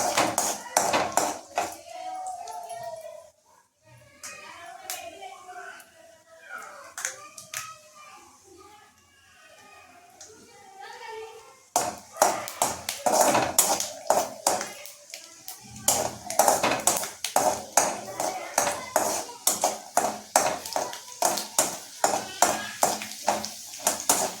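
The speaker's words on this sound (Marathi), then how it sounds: "शेंगदाणे छानपैकी खरपूस भाजून घ्यायचे" Peanuts roast in a pan while being stirred for kanda poha, producing repeated metallic clinks and scraping taps that grow busier and more rhythmic in the second half.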